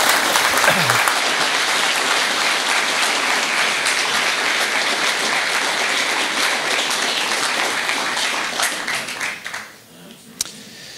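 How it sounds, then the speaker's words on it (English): An audience at a conference on self-determination applauds a speaker with sustained, loud, dense clapping that fills most of the clip, then tapers off abruptly near the end. "Give him applause."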